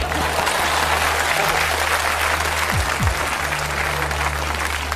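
Continuous applause from a live audience at a stage comedy sketch, a loud, dense wash of clapping over a steady low hum, with a brief whoosh partway through.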